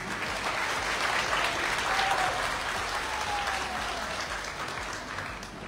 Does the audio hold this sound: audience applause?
yes